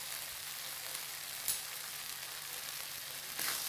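Chili paste, spices and sugar being stirred in a frying pan for a drumstick fritter curry give off a steady soft sizzle, faint and continuous, with an occasional scrape of the spoon.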